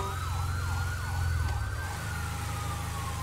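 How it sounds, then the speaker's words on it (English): Emergency vehicle sirens wail on a city street as a truck smokes nearby, the warbling tone rising and falling repeatedly before settling into a long steady note, loud and fairly close over low traffic rumble. "Oh, I hear sirens."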